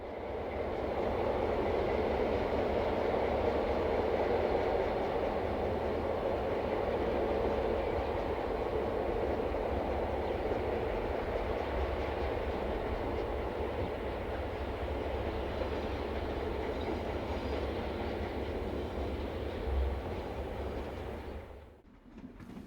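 Pair of Class 62 diesel locomotives, numbers 1351 and 1326, arriving from the east on a busy four-track line with a freight train, a steady loud rumble of engine and rolling wheels that holds for the whole stretch before cutting off.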